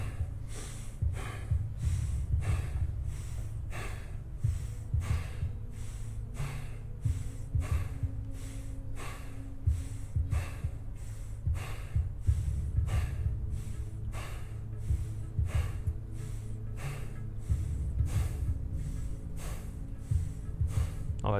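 Rapid, forceful rhythmic breaths of a fire-breathing (breath of fire) exercise, repeating in a steady fast pulse for the whole stretch, close and loud with no talking over them.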